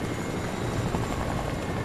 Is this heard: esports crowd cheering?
no